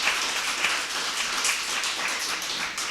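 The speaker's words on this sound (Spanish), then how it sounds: "Dale un aplauso fuerte al Señor" A church congregation claps together in steady, dense applause that holds at an even level throughout, with no voices over it.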